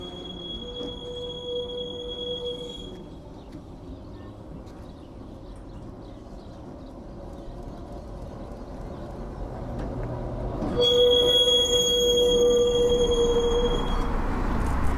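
The Woltersdorf tram rolls along its rails past woodland near Berlin with a low rumble, a thin high wheel squeal at the start, then louder running and a sustained screech as it draws closer.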